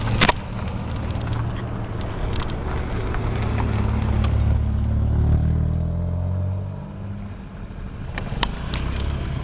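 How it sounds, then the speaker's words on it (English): Motor scooter being ridden along a park road, its engine a steady low drone that swells and eases with speed, with wind rumble and occasional clatter. "now I'm gonna get back on the scooter"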